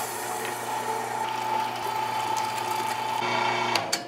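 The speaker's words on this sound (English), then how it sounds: "And now that our meat is nice and cold, through the grinder we go." A meat grinder runs steadily with a mechanical whir and ratcheting hum as cold meat is pushed through a coarse die for chili cheese sausage, with a few clanks near the end.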